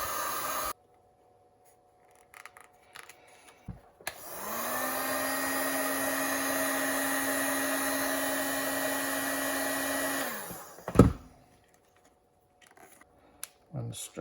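A heat gun warms vinyl wrap film on a 2009 KTM RC8, blowing as a steady whooshing hum for about six seconds that starts and cuts off cleanly, with brief handling noises before and after.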